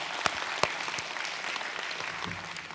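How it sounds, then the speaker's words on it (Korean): An audience at a meditation forum in Incheon breaks into applause: steady, moderately quiet clapping with a few sharp louder claps near the start, continuing without voices for a few seconds. "인정하시면 박수 치시고"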